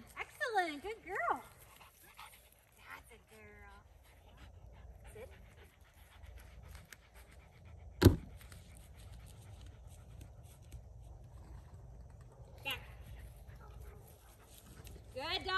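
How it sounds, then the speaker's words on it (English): Dog panting and whimpering during obedience training, quick breathy pants and a few whines near the start, then quieter ambient sound broken by a sharp knock midway, with a voice speaking now and then. "Good dog, James."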